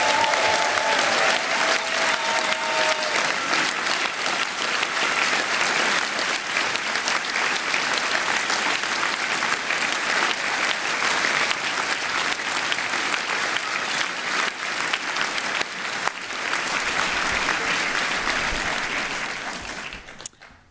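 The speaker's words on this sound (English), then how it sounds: "join with me in applauding this truly magnificent collection of new graduates in front of me" Sustained applause from a graduation ceremony audience honoring new graduates, a dense steady wash of clapping lasting about twenty seconds before fading out abruptly at the end.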